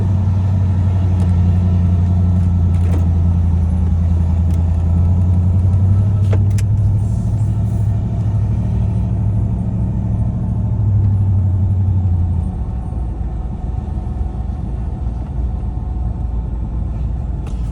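A 2003-2007 Chevrolet Silverado 2500HD pickup with a new Bilstein steering stabilizer drives down a road, its steady low engine and road rumble loud from inside the cab, easing slightly in the last few seconds.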